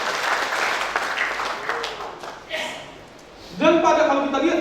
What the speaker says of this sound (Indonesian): Berikan tepuk tangan yang luar biasa bagi dia.